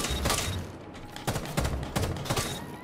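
Gunfire from a heavy-recoil gun in the tactical shooter Rainbow Six Siege, heard as several loud, spaced shots, some in short clusters, over steady game ambience.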